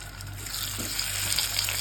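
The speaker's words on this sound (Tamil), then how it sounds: "எண்ணெய் நல்லா சூடாகிடுச்சு. ஊற வச்ச சிக்கனை வந்து அதில் போட்டுக்கிறேன்." Marinated chicken legs dropping into hot oil for a chicken fry, a dense, steady, close hiss of bubbling oil that sounds almost like running water, with no voices.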